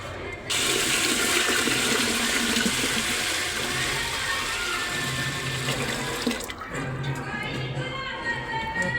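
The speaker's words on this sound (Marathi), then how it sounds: "पाणी टाकले मी ज्वारीत" Water is poured into a container of sorghum grain to soak it for village-style papad, making a steady, loud rushing splash for about six seconds that then eases into a softer trickle.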